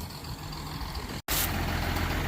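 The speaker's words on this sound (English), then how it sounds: "now we gotta back the tractor up till that's in the middle of the path here." A tractor engine rumbles at a steady idle while backing up, a close, continuous low drone broken by a brief cut halfway, then louder and fuller after it.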